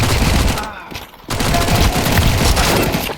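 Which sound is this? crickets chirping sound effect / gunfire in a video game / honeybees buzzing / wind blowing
gunfire in a video game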